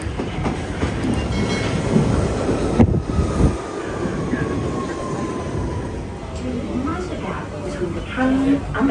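A train rumbles steadily with rail noise and faint clatter throughout, while people talk nearby.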